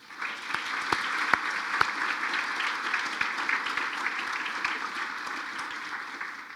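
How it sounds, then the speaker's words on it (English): A sustained round of applause from the audience at a Wilkes County Hall of Fame gala, honoring the Stone Center staff. Dense, steady clapping holds for several seconds at moderate distance with no voices over it. "I'd like for you to join me in a round of applause for Janet Staley and her wonderful Stone Center staff"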